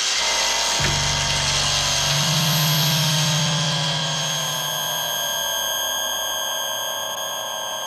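An angle grinder whines steadily and loudly, spinning up near the start and holding a sustained high-pitched drone with a strong low hum throughout, with no voices.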